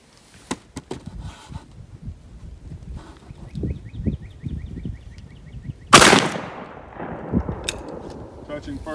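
A 10 gauge shotgun fires a 2 7/8 inch sabot slug at a range: one loud sharp blast partway through, amid quieter clicks and handling noise, with people talking before and after.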